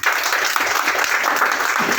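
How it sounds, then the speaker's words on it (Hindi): Brief burst of enthusiastic audience applause at an RCM business gathering, a dense continuous wash of clapping from a large crowd, loud and steady with no voices above it. "तो राज सर के लिए जोरदार तालियां।"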